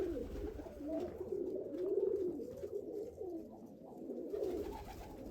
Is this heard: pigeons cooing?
yes